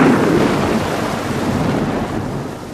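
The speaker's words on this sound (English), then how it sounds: "This was followed by a clap of thunder directly overhead." A loud rumble of thunder rolls overhead amid hard, heavy rain drumming on a van roof, a dense continuous roar that stays steady throughout.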